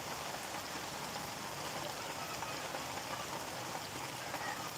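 Rain pours outdoors along a street in Gazipur, Bangladesh, as a dense, steady wash of patter that is fairly quiet and unbroken from start to finish.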